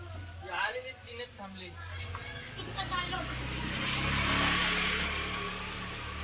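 An auto rickshaw engine drones low and steady during a ride, with a road rush that swells toward the end, under a woman's close conversation.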